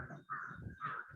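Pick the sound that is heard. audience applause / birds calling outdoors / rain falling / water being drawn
birds calling outdoors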